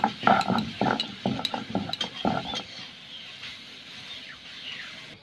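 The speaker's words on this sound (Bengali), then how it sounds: "জিরা, ধনে, লঙ্কা, তেজপাতা, আদা, পেঁয়াজ আমি এইসব বেটে নেব।" Cumin, coriander, chili, bay leaf, ginger and onion ground into a paste for a radish fry, a run of close, irregular scraping and knocking strokes that fades into quiet afterward.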